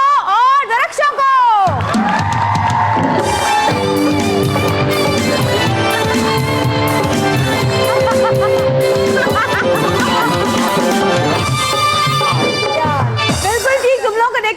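A television studio audience on the Pakistani show Satrangi cheers and whoops loudly and without a break, mixed with music as guests are welcomed.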